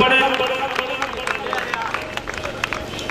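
Audience applause at a gathering, with dense rapid clapping and crowd noise throughout, mixed under someone speaking over it.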